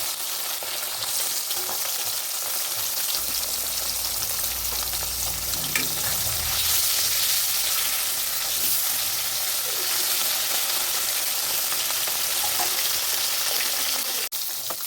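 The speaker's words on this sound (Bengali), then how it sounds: "মাছগুলো আমি ভেজে নেব এক এক করে" A wok of hot oil keeps up a broad, even sizzle as Sarpunti fish fry, crackling close and loud throughout with a faint knock near the end.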